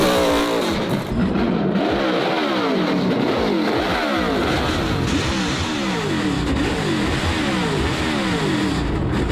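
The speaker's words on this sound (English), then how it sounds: "I love high-revving cross-plane V8s. They sound so cool." A high-revving cross-plane V8 engine revs repeatedly and continuously for several seconds, pitch climbing and falling in loud, rough waves close by.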